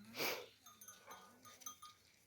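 A sheep or goat out grazing gives one short, faint bleat near the start, followed by quiet outdoor rustling and faint background tones.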